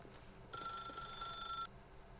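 A single electronic telephone ring sounds in the video game The Stanley Parable, one steady, fairly quiet burst lasting about a second, with no talking.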